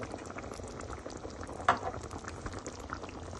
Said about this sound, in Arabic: نحط عليهم اللبنات. هلا بنحركهم